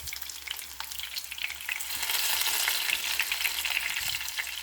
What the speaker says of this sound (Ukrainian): Ну і обсмажуємо, дивимося, що у нас тут.